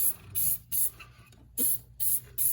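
Five short, sharp hissing bursts of silicone lubricant spray around boat rubber, each about a quarter second long, spaced out with brief quiet gaps and close to the listener.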